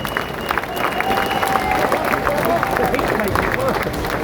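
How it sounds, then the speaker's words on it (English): Dense clapping from a large crowd at an outdoor protest demonstration in London, steady and sustained, with a murmur of voices and scattered cheers mixed in. "let's have a big round of applause"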